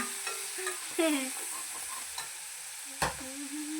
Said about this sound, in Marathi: आता तो या लसणाच्या ह्याच्यात टाकायचा आणि मस्तपैकी हलवून घ्यायचा